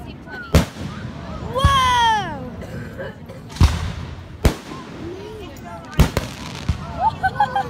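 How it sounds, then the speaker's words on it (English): Fireworks bursting overhead at an early Fourth of July show, several sharp booms spaced a few seconds apart with whistling rising shells between them, while excited voices talk and exclaim close by. "I've never seen fireworks so tight"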